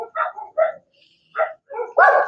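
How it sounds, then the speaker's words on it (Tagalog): Near a cemetery gate, a dog barks in short bursts with brief pauses between them, fairly close, ending in a louder, drawn-out yelp. A voice may be mixed in. "May aso."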